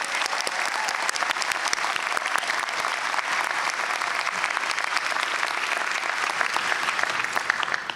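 Audience at a Chico State master's commencement ceremony applauds in a steady, sustained wash of many hands clapping, even and continuous throughout, heard from within a large crowd.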